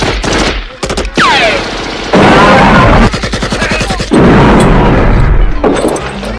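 Rapid bursts of automatic gunfire rattle in long, loud volleys, with sharp single shots and booming impacts between them, like a film battle scene.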